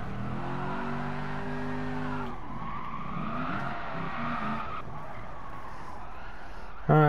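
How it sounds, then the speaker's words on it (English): Car drifting in the Gran Turismo Sport video game: a high engine whine holds steady, then breaks into a rough, sustained tire squeal as the car slides, loud and continuous, with a sharp burst at the end. "I'm drifting like I normally would"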